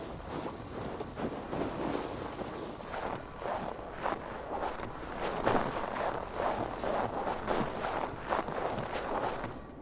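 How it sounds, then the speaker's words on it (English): A windy storm at sea in Assassin's Creed Valhalla, with steady gusting wind and rolling waves buffeting a boat, plus irregular thumping steps on deck, loud and continuous throughout. "Windy. Storm."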